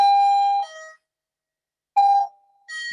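An electronic chime sounds twice with a pause between, each a clear sustained tone that fades out, close by.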